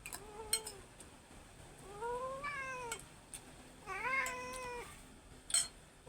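A cat meows three times at a fairly soft level, with a short single call first and then two longer drawn-out meows separated by pauses, and there is no talk around it.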